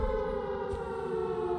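The Siren Head creature's siren call in Siren Head: Stranded, a sustained, wailing civil-defense-style tone that holds steady and loud throughout.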